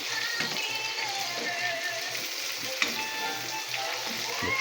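Chicken adobo sizzles steadily in hot oil, a dense continuous crackle with small pops and a faint clink or two, close and without any talking.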